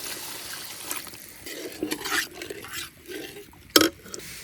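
Water poured into a pan of fried fish curry masala gives sporadic gurgling and splashing bursts, with one sharp splash near the end against a quiet background.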